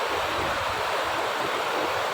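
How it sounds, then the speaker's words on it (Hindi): Fast-flowing, very cold stream water at Manthoka waterfall near Skardu, a dense continuous rushing roar, steady and close, with no voices. "और कितना खूबसूरत बहता हुआ पानी तेज़ी से और बहुत ठंडा है"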